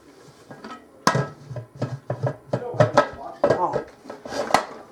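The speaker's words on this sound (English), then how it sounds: "now we're going to put our lid on" A heavy metal lid is fitted onto a pressure canner in a kitchen, a string of clanks, scrapes and knocks with brief talk mixed in.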